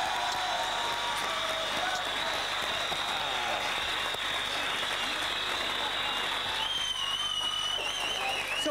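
A studio audience on a television game show applauds, a dense, steady roar of clapping that carries on at even loudness, with a voice briefly over it near the end.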